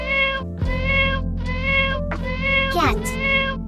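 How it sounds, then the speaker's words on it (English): A cat meows four times in a row, each call clear and drawn out, over a continuous low musical backing. "Cat."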